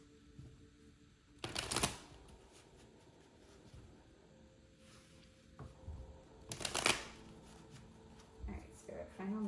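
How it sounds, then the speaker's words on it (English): Tarot cards being shuffled for a reading, heard as two sharp riffling bursts several seconds apart with softer handling noises between them, close and fairly quiet. "I'm going to pull some final cards just to close up the reading for you guys"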